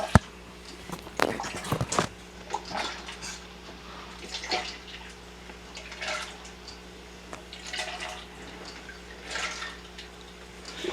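Water trickles and splashes as it fills the 360 radiator of an EKWB Performance liquid cooling kit in a Threadripper 1950x PC build, in faint, uneven gurgles and drips after an opening clatter.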